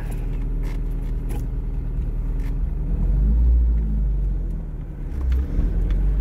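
A Fiat 124 engine runs steadily, a deep low rumble that swells briefly with a couple of revs, heard close and alone without talk.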